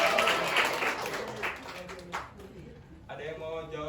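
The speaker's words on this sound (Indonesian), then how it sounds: "Beri tepuk tangan dulu dong buat Alif." Classroom students applauding a classmate, a brief burst of scattered clapping that fades within a few seconds, with voices murmuring alongside.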